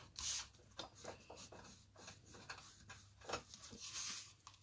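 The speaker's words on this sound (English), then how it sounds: "I'm going to push that flap down and burnish it really," A paper flap on a gift card is burnished down with close, quiet rubbing and scraping strokes, repeated in an uneven rhythm for a few seconds.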